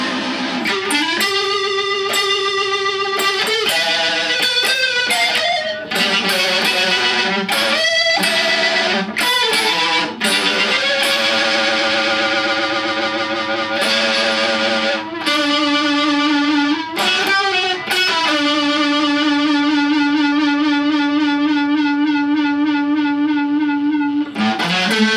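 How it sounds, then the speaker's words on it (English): An electric guitar plays through heavy distortion and a Uni-Vibe pedal at fast speed, a fast, pulsing modulation, loud and continuous, with sustained notes and chords warbling throughout. "Distortion with fast speed."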